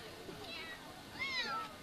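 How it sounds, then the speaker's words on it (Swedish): Faint cat meows drift in from the background in Bangladesh, a couple of thin, rising cries heard distantly over a low murmur of ambient noise. "Så massa katter som bakgrunder och jamar."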